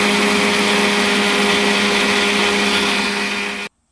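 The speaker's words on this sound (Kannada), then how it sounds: "ಈಗ ಲಿಡ್ನ ಕ್ಲೋಸ್ ಮಾಡಿಕೊಂಡು ತರಿಯಾಗಿ ಗ್ರೈಂಡ್ ಮಾಡ್ಕೊಂಬನ್ನಿ" Mixer grinder coarsely grinding sambar masala with a little added water for a chicken and egg sambar, a loud, steady high-pitched whir running continuously before cutting off abruptly near the end.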